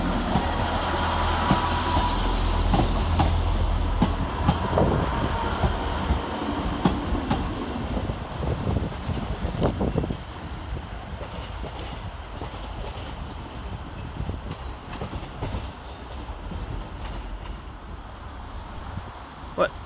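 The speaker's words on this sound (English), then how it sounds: "Getting ready to depart is 158901 with the 1502 Northern Rail service to Leeds via Wakefield Kirkgate." Northern Rail diesel unit 158901 pulls out of Sheffield station on a service to Leeds via Wakefield Kirkgate, a loud engine rumble with rhythmic wheel clatter that eases as it moves away, with a voice talking over it.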